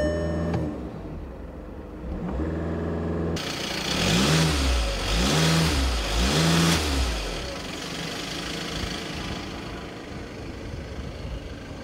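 A 2015 Volkswagen Golf TDI diesel engine idles, then revs up and falls back in three rising and falling surges before settling to a steady higher drone, heard up close.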